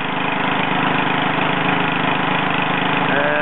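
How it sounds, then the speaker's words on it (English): A homemade 3 hp gasoline generator engine drives a 12 volt alternator at 30 amps, running close and loud with a steady, laboring drone that slightly shifts in pitch near the end. "you can see the motor is laboring to do 30 amps"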